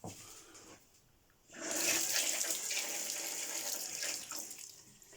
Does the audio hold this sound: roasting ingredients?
no